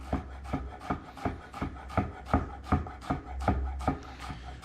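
A knife dices fresh onion on a cutting board, giving about a dozen sharp, evenly paced chops, close and clear with no talking.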